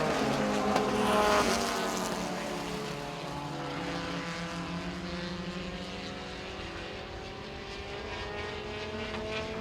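Race cars lap at Baer Field Motorsports Park during a 2019 season championship race, a loud engine drone swelling as cars pass close and then settling into a steady high-revving whine with no voices.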